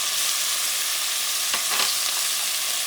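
Sofrito with onions and pepper frying in a pot makes a loud, constant hissing sizzle, with a brief stirring scrape partway through.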